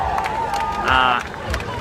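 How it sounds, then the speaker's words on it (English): A large street protest crowd in downtown Oakland at evening makes a busy outdoor hubbub of voices and movement, with a reporter talking close over it. "There's a crowd behind me, thousands of people out here to protest against Donald Trump"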